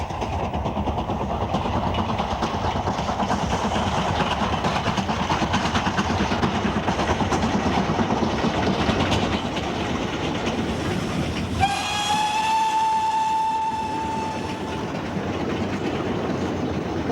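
Steam locomotive working hard on a heavy gradient on the line to Evercreech Junction, a loud continuous chuffing exhaust roar with rolling wagons, then a sustained whistle blast near the end.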